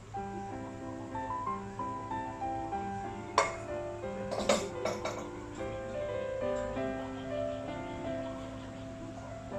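Stir-fried cauliflower with prawns scooped from a pan into a bowl, sounding as soft metallic clinks and scrapes over a steady background hum, with a few sharper utensil pings near the middle.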